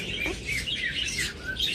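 Pet doves of assorted colour mutations, kept for sale with eggs and chicks, call in quick, bright chirps and squawks that repeat steadily at close range.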